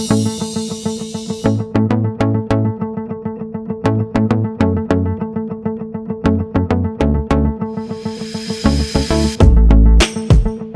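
Undercoating is sprayed onto a Honda Civic truck body in a steady, loud hiss, broken by rapid rattling clicks and bursts close to the work.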